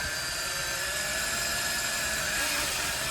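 A steady, high-pitched whine of a power drill running continuously, close and loud, drilling the corners of a hole cut into the dash of a 1972 Ford Mustang Convertible; no pauses and no voices.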